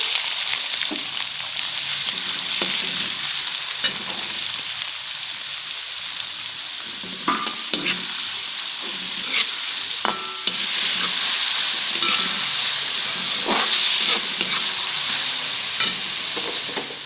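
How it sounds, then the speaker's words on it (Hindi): Onions fry in ghee for a Dhaba-style matar keema, giving a continuous close sizzle with scattered stirring scrapes and light clatter, the hiss swelling louder in the later part. "घी में हम प्याज ऐड करेंगे"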